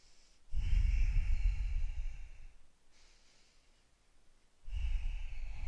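Two deep breaths during a seated yoga sequence: a long, audible inhale flows into a slow exhale, a quiet gap follows, then another breath begins, close and soft with no talking.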